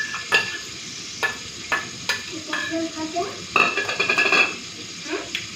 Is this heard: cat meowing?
no